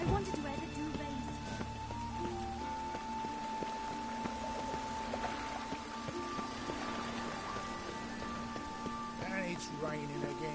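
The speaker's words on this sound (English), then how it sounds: "And it's raining again." Steady rain falling in The Witcher 3 video game, a constant hiss of drops on surfaces that continues throughout with tonal game sounds and a faint voice mixed in.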